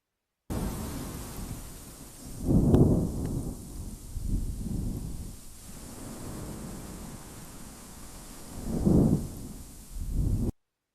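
An AI-generated thunderstorm sound effect: deep rolling thunder rumbles swell and fade in several bursts over a steady hiss of rain, loud and close, with no voices.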